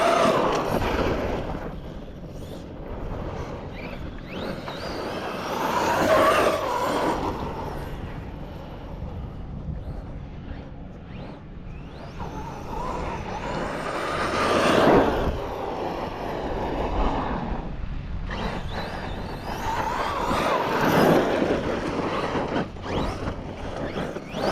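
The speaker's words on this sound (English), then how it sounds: "I had never like drifted with the Kraton." Arrma Kraton 6S RC car driving and drifting, its electric motor whining in repeated rising and falling surges as it speeds past, fairly close, with no speech.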